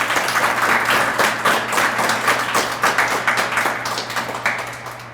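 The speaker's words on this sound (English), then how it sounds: "Please give them a round of applause." Audience at a Montana statehood centennial bell award ceremony applauds its sponsors, a sustained round of close, dense clapping that gradually thins and fades toward the end, with no talking over it.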